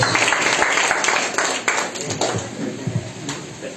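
A church congregation applauding after a sermon: a dense wash of clapping, loud and continuous at first and then thinning out, with voices mixed in.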